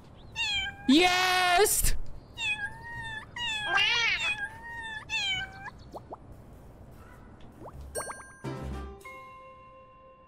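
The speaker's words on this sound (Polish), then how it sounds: "Musi być jakiś guzik do miauczenia." Meows from the cat in the game Little Kitty, Big City: several loud, drawn-out cries in a row, then a chime and some clinking, with a brief shout near the start.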